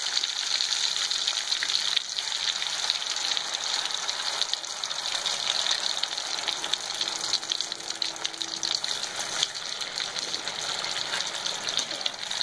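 Potatoes for French fries deep-fry in a pan of hot oil, giving a continuous close bubbling sizzle that holds steady throughout, with no one talking.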